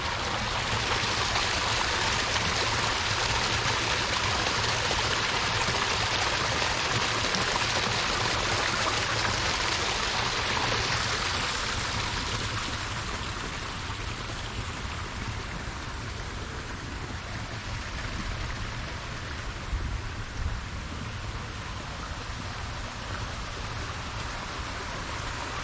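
Small decorative waterfalls at a luxury hotel in Pasadena give a steady, close wash of splashing water that runs unbroken throughout, easing slightly in loudness partway through, with no talking.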